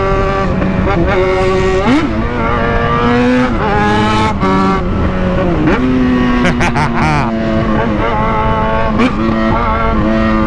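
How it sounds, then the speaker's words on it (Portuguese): A Jaguar XJ engine revs and drops repeatedly, its pitch sliding up and down through gear changes and downshifts, loud and close, with people talking over it. "Barulho da XJ não tem igual."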